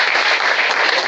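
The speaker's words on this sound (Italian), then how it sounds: "accoglierlo con un grossissimo applauso" Dense applause fills the space at a Matera football club player presentation, a steady wash of many hands clapping together without pause.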